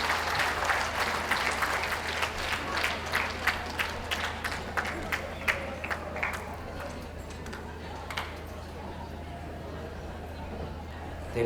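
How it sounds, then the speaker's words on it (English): Audience applause rings out for gundog breeds leaving the ring at a championship dog show, a crowd clapping strongly at first and thinning to scattered claps, over a low steady hum. "May we have a big round of applause for those breeds leaving the ring."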